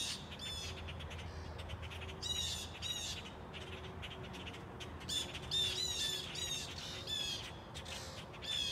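A red-shouldered hawk calls in repeated harsh, high squawking bursts, loud and close, against a faint outdoor background with no voices.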